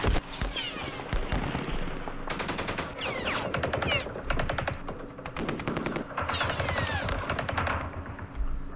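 Machine gun fire in the Vietnam war game Campaign Series Vietnam, set in the Battle of Hue: dense, continuous bursts of rapid automatic shots, loud and sustained with brief gaps between volleys.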